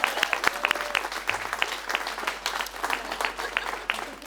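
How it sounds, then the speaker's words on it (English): Audience applauding the City of San Diego Clerk at a public celebration, a steady burst of clapping from a moderate crowd, fairly close and continuous for several seconds with no talking. "So let's give her a big round of applause."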